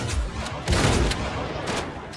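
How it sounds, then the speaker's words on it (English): Bandits in Project Zomboid Build 42 firing guns in a rapid, overlapping volley of game gunshots, sharp cracks scattered across the moment with a louder cluster midway. "They're all firing in different directions."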